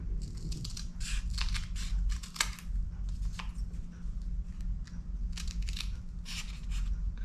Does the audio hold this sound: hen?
no